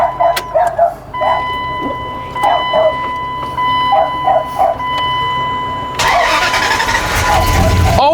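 A 2001 Dodge Ram 2500 project truck cranks with a series of bursts and voices over it, then the engine catches and roars to life, running loud and steady near the end.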